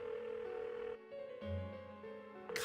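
An unanswered telephone rings in the Persona 4 video game, a steady electronic tone repeating faintly and alone with no voices, ending in a brief noisy burst.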